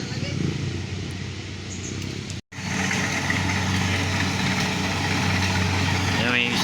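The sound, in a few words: motorcycle engine running, loaded with harvested rice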